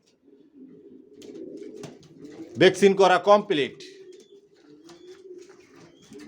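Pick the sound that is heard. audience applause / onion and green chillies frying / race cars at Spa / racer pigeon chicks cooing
racer pigeon chicks cooing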